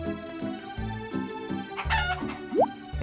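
Chickens cluck in short repeated bursts with a rhythmic backing tune, plus a quick rising electronic blip near the end, in the video game Harvest Moon: Save the Homeland.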